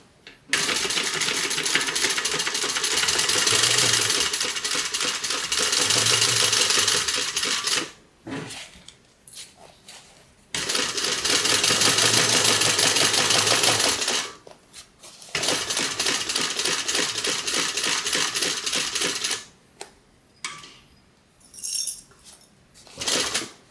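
A sewing machine stitches around the gusset corner of a Lil' Leah crossbody bag in loud steady bursts, each run lasting several seconds with short pauses between, followed by a few lighter clicks at the end.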